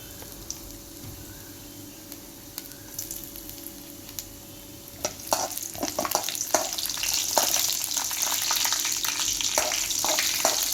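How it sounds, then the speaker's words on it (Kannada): Ingredients for carrot halwa frying in hot oil until golden, a soft sizzle at first that swells into a louder, dense crackling hiss with scattered pops, close and without talk. "ಗೋಲ್ಡನ್ ಕಲರ್ ಬರೋವರೆಗೂ ಚೆನ್ನಾಗಿ ಹುರ್ಕೋಬೇಕು."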